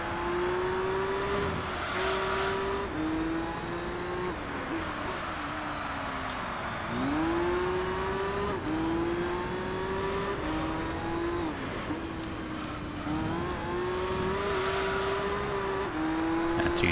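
Race car engine in Gran Turismo 3 holds a steady high drone through corners, its pitch dipping on lifts and climbing again under throttle, with gear-change steps. Loud and continuous, with no talk.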